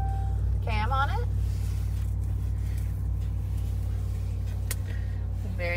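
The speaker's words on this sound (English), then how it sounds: "Getting into the truck now and starting her up. She starts like a beauty." A 2019 RAM 1500 pickup idles steadily inside the cab after starting, a constant low engine hum running throughout, with a person speaking briefly near the start and a short chime or tone partway through.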